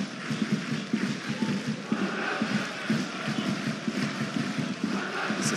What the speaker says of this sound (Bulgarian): Опит, който е изпратен с аплодисменти от феновете на Спартак.